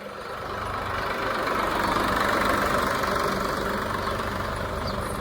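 A tractor engine idles steadily at close range, its deep, even rumble holding at a constant level for the whole stretch with no voices over it.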